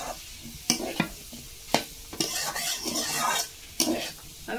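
Shrimp and banana stem sizzling and being stirred in a pan, with a steady frying hiss under repeated sharp scrapes and clinks of a utensil against the pan.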